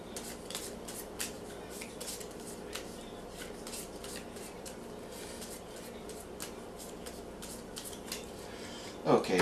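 Cards from the Forbidden Island board game being shuffled by hand, a steady run of crisp riffling and flicking clicks over several seconds, close up, with quiet room noise and a louder rustle at the end.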